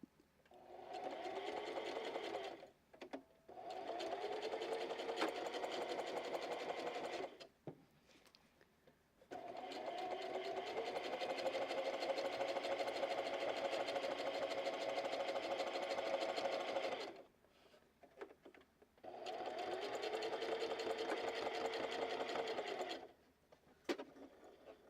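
A sewing machine stitches fabric in long steady runs of mechanical whirring, pausing several times between bursts, loud and close with no talk.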